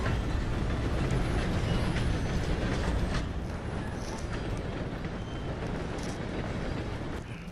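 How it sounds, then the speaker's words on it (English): A train rumbles past in Red Dead Redemption 2, a loud, continuous, broad roar with faint metallic clatter and squeal on top, close by and sustained, gradually easing slightly toward the end, with no talk over it. "Gotta beat that train, Morgan"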